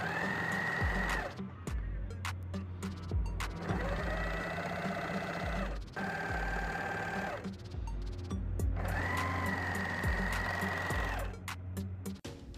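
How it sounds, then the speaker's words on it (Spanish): Overlock serger stitching fabric for a winter cap, running in several loud sustained bursts separated by brief pauses, close up with no talking. "lo que vamos a hacer a continuación es pasarle la remalladora por toda la"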